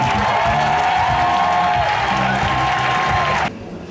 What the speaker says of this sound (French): Donnons une grande acclamation à Jésus.